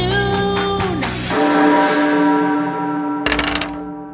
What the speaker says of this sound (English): you hear a loud bell